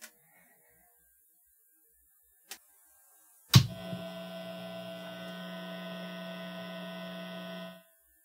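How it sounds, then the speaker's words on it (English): A guitar amplifier switched on with a sharp click, then a steady, buzzy mains hum with strong harmonics that holds for about four seconds before cutting off. No talking. "turn on my amp, and turn the control knob until the background noise goes away"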